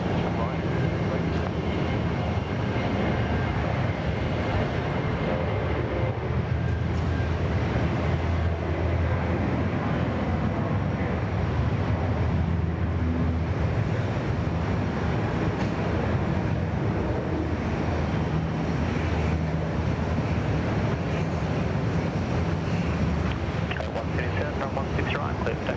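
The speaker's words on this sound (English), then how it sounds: "Let's enjoy this 717 first." A Boeing 717 airliner on the runway at Sydney Airport gives off a steady, fairly distant jet roar that lasts the whole time, with faint voices murmuring underneath.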